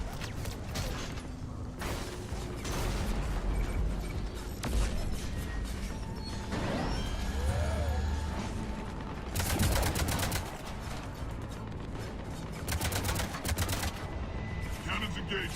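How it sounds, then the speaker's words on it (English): Cannon fire in the video game Mass Effect 3 comes as dense, rapid bursts of heavy mechanical blasts, loud and sustained. Louder volleys repeat amid other battle noise, with some game voice heard. "Cannons engaged."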